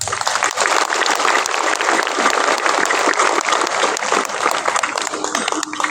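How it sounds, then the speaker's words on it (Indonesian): An assembled crowd at a National Education Day flag ceremony breaks into loud, continuous applause, a close, dense wash of clapping that runs the whole time with slight swells and no speech over it. "saya ingin kita semua tepuk tangan apresiasi terhadap pelaksanaan upacara hari ini"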